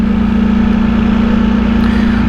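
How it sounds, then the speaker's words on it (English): Road traffic on a Sunday night, a steady loud engine drone with a constant low hum, close and unbroken, with no talk. "A lot of traffic here for a Sunday night."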